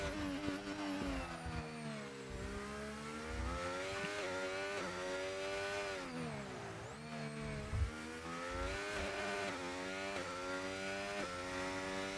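A race car on a flying qualifying lap around Baku in a racing game revs hard through the gears, its engine pitch sweeping up and dipping through braking zones, loud and steady with no talking.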